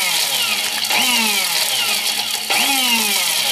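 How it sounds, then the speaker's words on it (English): A blender pulses smoked chilies in loud repeated bursts, its motor whirring up, easing off, then surging again about two seconds apart. "I like pulsing it. Things are blended up real good."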